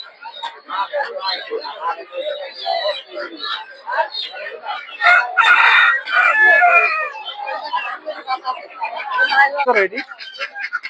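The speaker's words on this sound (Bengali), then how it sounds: "এই দেখতে পাচ্ছেন দেশি মোরগ" A local desi rooster crows amid busy chatter and other fowl calls at Golakandail market in Bangladesh, its strained cries rising over a noisy crowd nearby.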